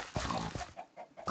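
Several short grunting oinks from pigs in the survival game TerraFirmaCraft, spaced irregularly and fairly close, with no talk over them.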